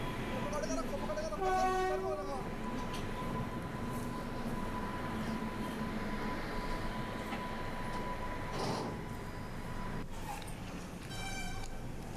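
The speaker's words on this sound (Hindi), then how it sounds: "ट्रेन आ रही थी उधर से।" A train horn sounds twice amid steady rumbling noise, with a steady tone and rail noise at the scene of a rescue near the tracks, where a woman was pulled back; voices murmur throughout.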